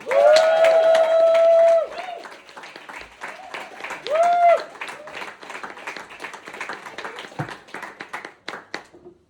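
An audience bursts into loud applause and cheering with a whistle, then the clapping thins out to scattered claps.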